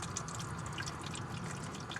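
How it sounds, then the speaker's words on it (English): Coolant from a 2000 Toyota Camry engine dripping into a drain pan during a thermostat gasket repair, with a steady trickle and scattered small drips over a constant background hiss. "it's going to start dripping coolant out everywhere. You can hear it hitting the drain pan now."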